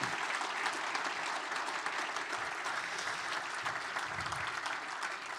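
A large audience applauds steadily throughout at a business talk event with hockey commissioner Gary Bettman and Michael Andlauer, a continuous, even roar of many hands clapping, somewhat distant and soft.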